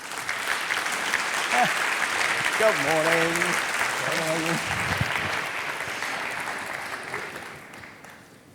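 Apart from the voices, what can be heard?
audience applause for GroupM president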